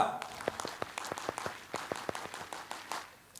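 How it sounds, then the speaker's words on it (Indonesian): Scout crowd at a national Ma'arif NU campsite opening performing the Tepuk Pramuka clap pattern, a series of sharp, rhythmic group claps in quick bursts with short pauses, fairly distant and moderately loud. "Tepuk Pramuka."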